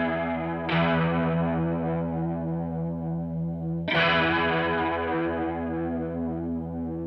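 Electric guitar played through a Boss CE-5 chorus pedal with the high tone set high, two loud strummed chords ringing out with a shimmering, wavering chorus sweep and bright treble as each decays.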